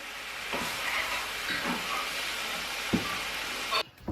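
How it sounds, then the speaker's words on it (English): Steady, close hissing and crackling sizzle of katsu curry cooking in a hot pan, continuous throughout with a few soft clinks. "do you hear that sizzling?"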